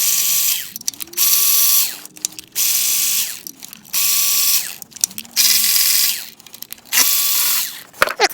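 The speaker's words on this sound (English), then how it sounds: "Then we've got these 6 10mm bolts that we've got to pull out." A ratchet spins out six 10mm bolts from a Stanadyne fuel injection pump on a GM 6.5L diesel truck engine, with loud, close bursts of rapid clicking in repeated runs separated by short pauses.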